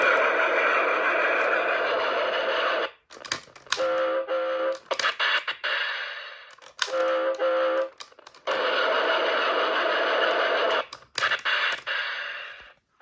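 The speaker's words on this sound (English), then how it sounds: "So those were the noise sound effects." Electronic sound effects from a Geotrax toy train play as bursts of buzzy, crackly noise, broken by short gaps and a few steady beeping tones, fairly close and with no one speaking.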